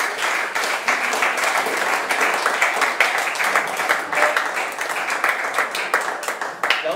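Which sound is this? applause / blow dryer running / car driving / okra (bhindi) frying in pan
applause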